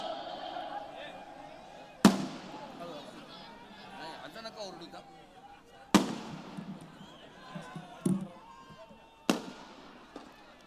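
Several sharp firecracker bangs burst at irregular intervals, loud and close, with a crowd talking and chattering in between.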